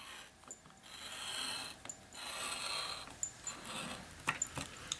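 Hand-turned button-making cutter slicing through paper, a soft, steady mechanical grinding and scraping with a few small clicks and ratchet-like catches, fairly close and quiet, no talking.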